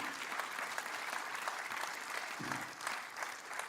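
A church congregation claps together at a Sunday service, a steady wash of applause filling the room from start to finish with no break.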